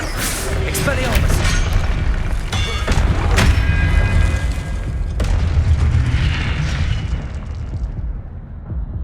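Spell effects from Hogwarts Legacy gameplay, including the Expelliarmus disarming charm, heard as loud booming bursts and thumps over continuous game sound, with a voice calling out spells.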